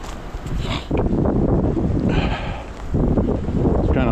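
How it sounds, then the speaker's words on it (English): Gusts of wind buffet the microphone during an outdoor walk, heavy rumbling bursts that rise and fall in uneven surges, loud and close, with no voices. "It's windy, but it's beautiful."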